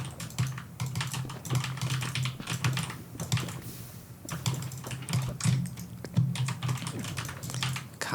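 Rapid typing on a computer keyboard, a dense, irregular clatter of close key taps with brief pauses, over a low background hum.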